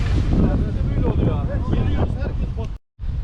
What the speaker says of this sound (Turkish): İnanılmaz rüzgarlı bir hava var.